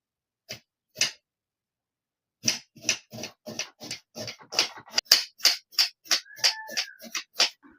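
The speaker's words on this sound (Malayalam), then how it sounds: "അപ്പൊ നമുക്ക് ഒരു രണ്ട് സവോള കട്ട് ചെയ്തെടുക്കാം കേട്ടോ" A knife chops through two onions for a Kerala-style chicken curry, giving crisp, close cuts: two isolated chops, a short pause, then a steady quick run of evenly spaced strikes on the board.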